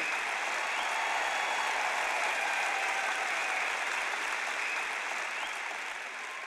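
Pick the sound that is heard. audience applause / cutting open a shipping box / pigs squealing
audience applause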